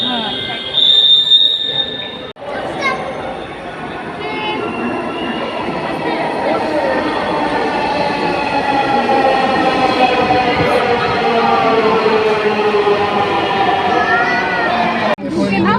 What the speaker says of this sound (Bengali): মেট্রো ট্রেনে যে উঠে আসলাম আমরা